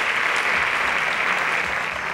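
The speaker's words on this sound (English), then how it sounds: "Please give her a round of applause." Steady audience applause for a contestant eliminated from a mathematics competition show, a dense even wash of clapping held at constant loudness throughout, with no voices.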